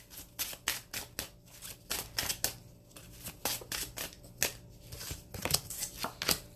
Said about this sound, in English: I'm going to pull a card from the romance deck.